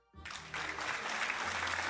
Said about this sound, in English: I'm surprised by the loud applause.